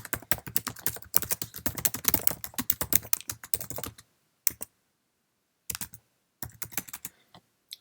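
Email being typed on a Mac keyboard: a rapid, close run of crisp key clicks for about four seconds, then scattered short bursts of keystrokes separated by silence.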